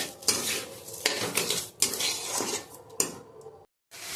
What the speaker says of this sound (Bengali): এবার এটাকে অনবরত নাড়তে হবে।